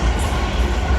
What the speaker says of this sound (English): 450-058 on the way to Basingstoke.